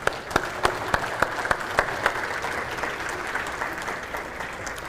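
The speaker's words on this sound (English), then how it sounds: "Special thank you and applause," An audience applauds, with a few sharp, distinct claps standing out early over a steady wash of clapping that continues to the end.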